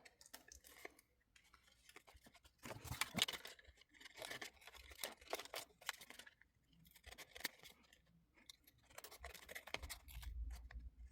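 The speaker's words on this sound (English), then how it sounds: "Now I just have to trim them." Scissors trim paper scraps in quiet, close snips that come in irregular clusters with short pauses between them, and no voices are heard.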